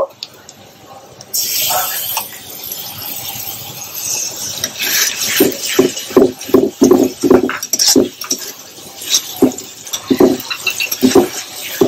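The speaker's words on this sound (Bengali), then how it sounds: "রসুনটা একটু ভাজা হয়ে, একটু হালকা ভাজা হয়ে আছে, কাঁচা গন্ধটা চলে যাক।" Garlic fries with onions in a pan as a spoon scrapes and knocks against the pan in a quick series of close, sharp strokes, with a faint frying hiss underneath.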